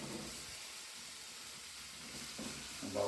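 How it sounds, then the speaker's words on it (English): Shrimp and garlic sauteing in a pan for spinach pasta with wine sauce, giving a steady low sizzle and hiss throughout, with a brief stir or clatter near the end. "So we're going to just let this saute a little bit"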